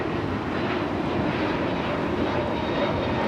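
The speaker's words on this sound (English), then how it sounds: "Taking off to JFK. JetBlue 324." JetBlue Airbus A321neo jet airliner taking off from Los Angeles International Airport bound for JFK, a continuous heavy engine roar with a broad rushing texture, close and sustained for the whole stretch.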